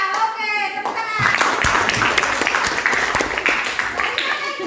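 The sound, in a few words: classroom clapping hands in applause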